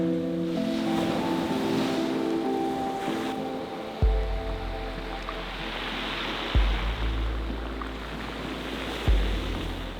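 Big ocean waves crash onto a windy shore, with three heavy booming breaks standing out over a constant roar of surf and wind gusts.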